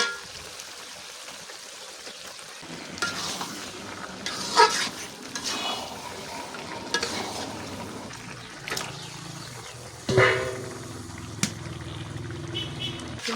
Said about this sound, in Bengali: গুষ্টা এখন আমি ভালো করে মশলাটির সাথে মিশাই নিতে।